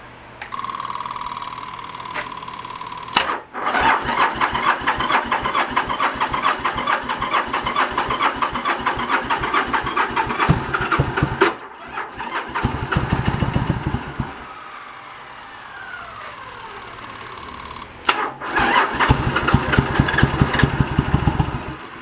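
A 1986 Yamaha Virago 1100 motorcycle, primed with starter fluid, cranks with a rapid chugging starter, catches and runs roughly, dies back to idle sputter, then cranks again; loud and close with no talking.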